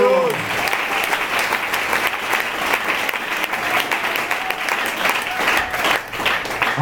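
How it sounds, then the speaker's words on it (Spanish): Congregation applause during a church sermon: dense, steady clapping from many hands fills the room at constant loudness from start to finish, with no break. "Alguien que le dé un aplauso al Señor."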